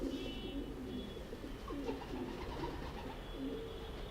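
A pet pigeon, a female raised from a chick, coos softly in repeated low phrases against a steady background hum, with no talk.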